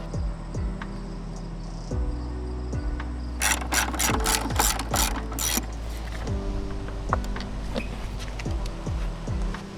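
A ratchet with a 10mm socket and extension clicks rapidly while removing a nut on an Audi C7 4.0T, close and distinct, in repeated bursts of pawl ticks with brief metallic clatter in between.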